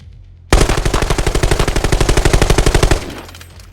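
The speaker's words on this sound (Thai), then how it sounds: "เสียงปืนของศัตรูที่มาฝั่งประตูแดงเนี่ย" A rapid burst of enemy automatic gunfire in the video game Arena Breakout: Infinite starts abruptly and fires steadily for about two and a half seconds, loud and close, then cuts off.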